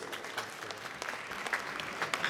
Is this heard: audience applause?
yes